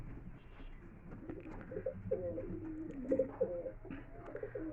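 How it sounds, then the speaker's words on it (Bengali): A female pigeon of a big-sized fancy breed coos in soft, low, repeated phrases from close by, faint against a quiet background hum with no talking. "দেখুন এটা মাদা পায়রা, দেখুন মাদা পায়রা খুব ভালো গেট আপের"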